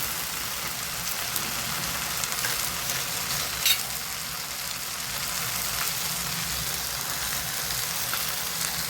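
Ghee sizzling and crackling steadily in a hot pan with whole garam masala for chicken biryani, a dense close frying hiss with a brief louder spatter partway through.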